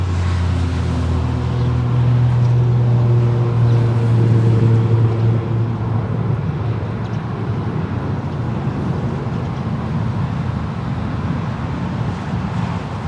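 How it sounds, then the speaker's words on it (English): An Alaska Airlines Airbus A320 takes off from LAX, its engines a loud, steady, broadband roar with a low tonal hum that swells around the middle and holds close and constant to the end, with wind rush over the microphone. "we got the next departure of Alaska 1147, headed off to Seattle as Airbus A320"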